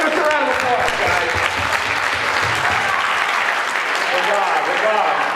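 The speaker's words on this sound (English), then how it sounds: "Give us a round of applause, guys." A school audience at a Highland Park High School show applauds in a steady, full wash of clapping and cheering that holds at an even level throughout.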